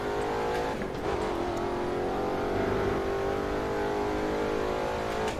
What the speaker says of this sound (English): This thing does sound good, though, for a Volkswagen, even though it would sound more diesel than what it is.